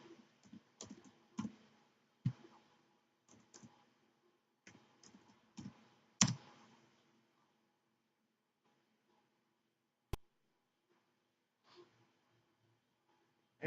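Someone types on a computer keyboard during a server setup, producing bursts of quiet close clicks and key taps for several seconds, then a few isolated keystrokes amid near silence.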